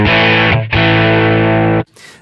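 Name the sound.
Line 6 POD clean amp model with drive fully up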